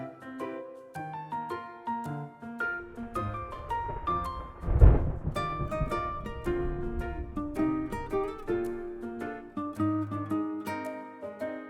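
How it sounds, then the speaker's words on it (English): A deep rumble of thunder in the video game Love and Deepspace rolls in under a steady backdrop of plucked melodic music, swelling briefly before fading beneath the tune. "That sounded like thunder."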